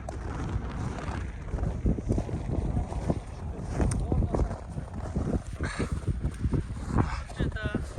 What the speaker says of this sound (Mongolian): Салхитай байна.